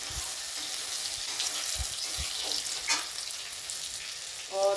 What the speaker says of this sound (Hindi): थोड़ा सा लहसुन को गंध जाने तक भून लेती हूँ